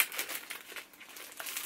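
A small paper envelope from a Saint Laurent purse unboxing crinkles and rustles close by in quick, light bursts, quiet overall.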